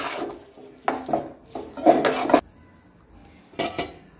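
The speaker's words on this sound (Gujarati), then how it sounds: "એને એક પ્લેટમાં આપણે કાઢી લઈએ" A utensil scrapes cooked bread cutlet filling onto a plate in several short, rough bursts with brief pauses between, fairly close.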